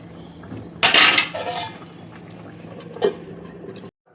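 A metal lid clatters down onto a pot of simmering tomatoes with a loud close clang and rattle, followed by a softer second clink over a faint bubbling background.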